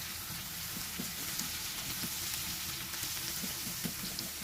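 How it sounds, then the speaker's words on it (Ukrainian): Chopped onions and button mushrooms frying in a pan, a dense, continuous crackling sizzle with fine popping, steady and close, no voices. "Все підсмажилася цибулька з грибочками"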